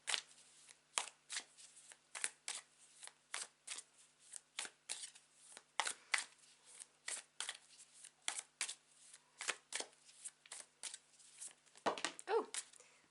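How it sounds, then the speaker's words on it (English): Tarot cards being shuffled by hand, a long run of quiet, crisp riffling bursts repeating at a steady rhythm, close up and alone, ending with a few cards tumbling loose. "whilst I shuffle the cards"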